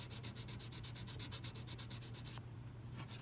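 Steady rapid rasping of a sanding beam scraping excess paint off guitar frets along a taped-off fretboard, close and continuous in even back-and-forth strokes, stopping near the end.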